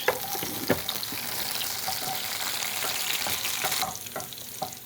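Garlic fries in hot oil for a tempering, giving a steady close sizzle broken by crackling pops and stirring knocks, easing slightly toward the end, with no talking.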